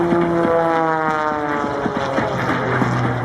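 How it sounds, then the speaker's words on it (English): An Edge 540 aerobatic airplane flies at an airshow, its propeller engine droning steadily and loudly with a shifting whine as it maneuvers overhead, no voices over it. "She's flying the Edge 540."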